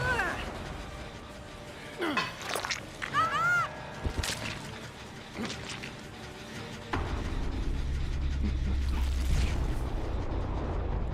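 A flashbang goes off in Dead by Daylight, an abrupt burst that gives way to a steady, droning hiss, after a stretch of scattered creaks, clicks and sharp game effects.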